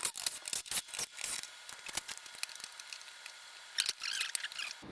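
Torx T25 bolts being backed out of a 2012 BMW windscreen panel, with a series of quick scratchy zipping and clicking tool bursts, close and fairly quiet, with pauses between them.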